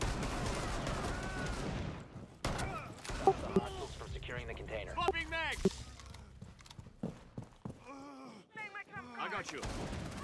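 M870 shotgun in Rainbow Six Siege firing a few loud, sharp booms spread across ten seconds amid other game noise and bursts of shouting and talk.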